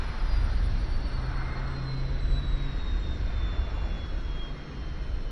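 A light aircraft engine winds down after the master switch is turned off, a steady whirring hum with a slowly falling high whine, moderately loud and alone.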